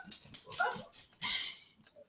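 A puppy makes soft whimpers and small yips in short bursts, close by and indoors, with brief gaps of quiet between the noises.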